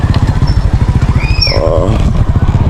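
A motorcycle engine idles close by with a rapid, pulsing chug, steady throughout, while a voice speaks briefly over it.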